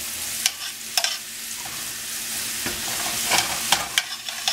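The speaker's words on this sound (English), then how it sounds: "Try to keep that butter moving so it don't get too brown on me" Butter sizzles in a pan while being stirred, a close hiss broken by repeated sharp scraping and clacking strokes of the utensil at an irregular rhythm.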